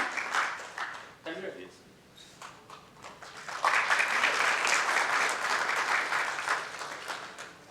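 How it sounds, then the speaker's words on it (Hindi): Audience in a hall applauding to welcome a guest at a festival opening: a brief spoken line and scattered claps first, then a full, steady wave of applause swelling and sustaining, heard from within the crowd. "जोरदार तालियों से स्वागत कीजिए हमारे अतिथि महोदय का।"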